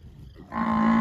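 A Nelore cow that has recently calved lets out a loud, sustained moo on a cattle farm, rising abruptly out of low rumbling background noise and holding steady to the end.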